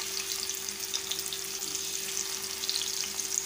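Fish fry in hot oil on a tawa over a low flame, a steady close-up crackling sizzle with constant spitting pops and a faint background hum, and no voices.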